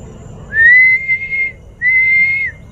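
A person whistles two clear, high, sustained notes, each lasting about a second, separated by a short pause against a quiet background.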